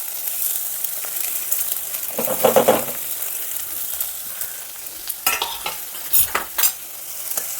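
Lentils, crushed garlic, onion, dried chilies and curry leaves frying in a little oil, giving a steady close sizzle broken by bursts of stirring and spatula clinks against the pan.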